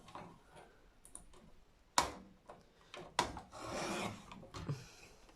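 Paper strip 8 cm wide, cut for a mini album with a dull blade, giving close, uneven scratchy rasps and sharp ticks in short bursts, with one longer dragging cut toward the end.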